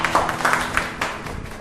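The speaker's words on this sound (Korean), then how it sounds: "박수 한번 부탁드립니다" Teachers at a training session give a short round of applause, a brief burst of hand claps that is fairly close and moderately loud, with some faint murmuring underneath.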